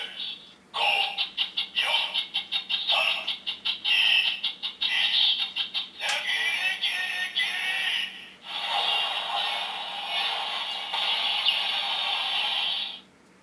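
A DX Zikan Girade toy weapon plays its electronic sound effects: a rapid run of loud chopped synthetic bursts, followed by a longer sustained buzzing tone and a final steady electronic blast, close and unaccompanied by talk.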